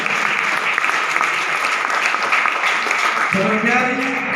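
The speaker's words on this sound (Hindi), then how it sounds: "उनके लिए जोरदार तालियां," An audience at a Hindi motivational talk breaks into dense, sustained clapping, steady and close throughout, with a speaker's voice rising over the applause near the end.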